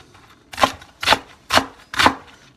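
A knife chops through cabbage and other vegetables at a live fermentation workshop: four crisp, evenly spaced cuts about half a second apart, close and clear against a quiet room.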